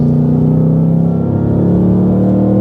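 A supercharged Hennessey Venom H850 engine drones loud and steady from inside the moving car, a smooth low rumble with a faint, barely noticeable supercharger tone above it and no talking.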